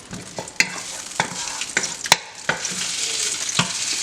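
Onions sizzle in olive oil in a pan for homemade tacos, with several sharp scrapes and knocks of stirring over a continuous close frying hiss; no voices.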